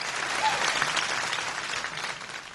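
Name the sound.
hall full of applause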